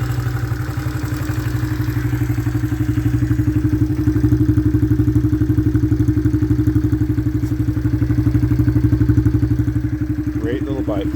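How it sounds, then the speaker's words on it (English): A Honda CRF70F dirt bike engine idles steadily with an even, throbbing putter, loud and close, holding a smooth low rhythm throughout. "that's a great sounding motor. It just drops right back down to an idle"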